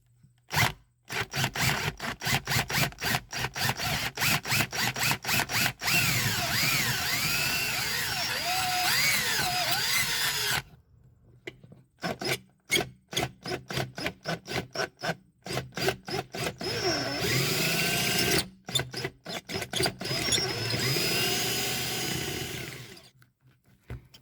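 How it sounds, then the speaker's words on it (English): Harsh, grinding power-drill bursts boring out metal rivets on a BMW E32 fusible link, a long continuous run followed by short stop-start pulses, close and loud with no talking. "So I just need to drill these rivets"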